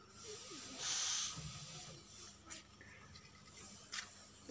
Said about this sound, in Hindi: चूल्हा जलाएंगे।